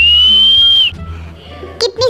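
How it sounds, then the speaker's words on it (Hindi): A person whistles one long, steady, high note close to the microphone, then stops. A couple of short chirps follow, and voices come in under and after it. "कितनी सीटी बजाएगा, पढ़ाना शुरू कर।"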